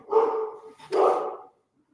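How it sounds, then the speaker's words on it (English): A dog barks twice in quick succession, loud and close, followed by silence. "That's my dog barking."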